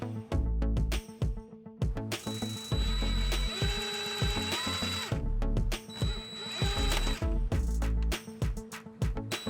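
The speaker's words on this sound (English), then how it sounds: "Here we are cutting out an aluminum bracket to help raise up the ceiling" Power tool cutting an aluminum bracket for a plant-based food trailer build, loud grinding and whining in bursts with pauses and mechanical rattles between cuts.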